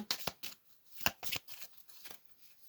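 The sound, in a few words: tarot cards being shuffled and drawn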